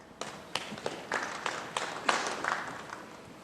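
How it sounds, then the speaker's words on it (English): Small ripple of scattered applause from a snooker crowd at the Players Championship, a series of quiet, distant claps rising and falling over a few seconds with no talk. "he gets a little ripple of applause there"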